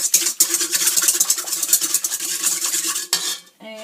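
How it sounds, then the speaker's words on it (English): Bread dough ingredients being stirred in a bowl for homemade garlic bread, a close, busy scraping and clinking of utensil against the bowl in quick uneven strokes, ending with a brief pause. "Give that a stir."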